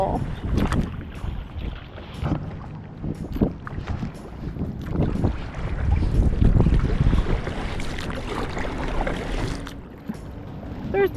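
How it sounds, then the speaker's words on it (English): Kayak on river rapids, with a steady rush of churning water and paddle strokes, heavy wind buffeting the microphone throughout and a brief shout near the start. "Now we're getting some rapids."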